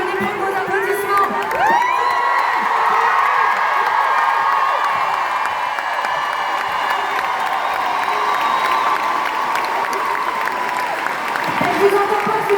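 A concert crowd at a show in Toulouse applauds and cheers loudly and steadily, with shouts and whoops rising over dense clapping before the noise thins near the end.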